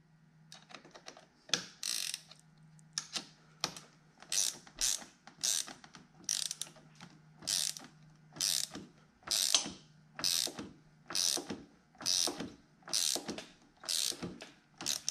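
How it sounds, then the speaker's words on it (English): A wrench ratchets while tightening the battery terminal bolt on a Harley motorcycle, giving about a dozen close, rhythmic bursts of rapid clicking separated by short pauses. "Go ahead and take your wrench, tighten her up."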